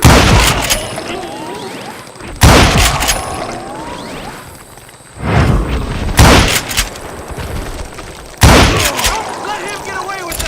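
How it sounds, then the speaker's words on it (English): Gunfire in Call of Juarez Gunslinger: loud, sharp shots and bursts erupt in repeated clusters, each trailed by echoing decay, with a voice speaking between them. "I just kept shooting at anything I could see up in those damn rocks"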